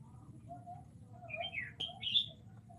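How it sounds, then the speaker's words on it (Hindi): A few short bird chirps and tweets sound faintly against a quiet background, rising in pitch toward the end. "हमारे यहाँ देखो चिड़िया बोला थी, सुन लियो आप सब चिड़िया का आवाज़"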